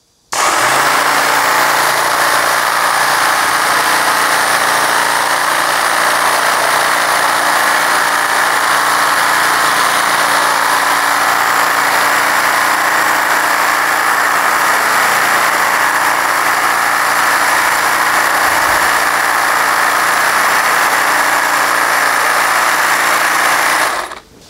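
A Milwaukee cordless trimmer on an extension attachment cuts high arborvitae branches in a garden, making a loud, steady, high-pitched motor whine that runs without a break for about twenty seconds.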